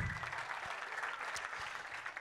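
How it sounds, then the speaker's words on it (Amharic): A church congregation applauding at a healing service, a dense, steady patter of many hands clapping at moderate distance for a couple of seconds. "አጨብጭቡ ለጌታ ክብር።"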